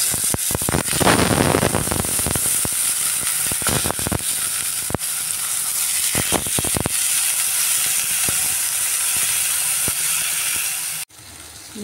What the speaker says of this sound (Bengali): এবার তেলের মধ্যে আমি এক পিস করে বেগুনগুলো দিয়ে দিচ্ছি।